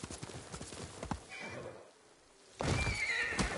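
A horse in a video game whinnies sharply and trots with hollow clip-clop hoofbeats, a quieter pause falling between bursts of movement and neighing; no one talks over it.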